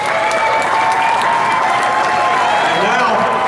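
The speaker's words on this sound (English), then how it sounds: "Let's give them a great round of applause." Large crowd applauding steadily and loudly at a ceremony in Las Vegas honoring baseball players, with dense continuous clapping and some crowd noise and voices mixed in.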